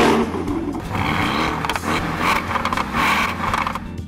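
A Porsche turbocharged four-cylinder engine revving with a rattling, raspy tone, loud and close, with a rough clattering texture and rising and falling surges throughout.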